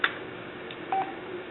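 A short electronic phone message notification beep, a couple of quick tones over faint room noise.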